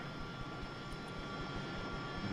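Harrier jet engine in DCS World igniting at startup, a steady broadband turbine roar with low rumble filling the whole stretch at an even, moderate level, no voices over it.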